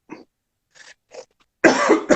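A few small, muffled coughs with pauses between them, then a loud, harsh burst of coughing close up.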